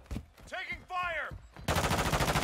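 Gunfire in Call of Duty: Modern Warfare II: a fast, loud automatic burst of shots rattling out after a short stretch of radio chatter and electronic chirps, with a voice heard earlier.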